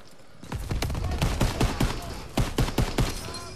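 Rapid bursts of gunfire in the Call of Duty WWII campaign, a dense series of loud close shots and rattling volleys lasting a few seconds.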